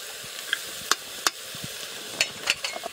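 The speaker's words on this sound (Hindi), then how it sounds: "देख रहे हैं सब्जी तो भून ही रहा है" Mixed vegetables sautéing in a pan for khichdi, a continuous sizzle under repeated sharp clinks and scrapes of a spoon stirring against the pan, close and fairly loud, with no talking.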